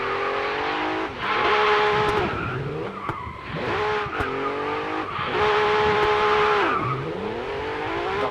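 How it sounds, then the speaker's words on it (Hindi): A Honda in the Racing Master video game roars loudly as it drifts, with repeated engine revving and rising and falling gear pitches over tire squeal, and nobody speaks. "दहाड़ती है भाई, दहाड़ती है गाड़ी।"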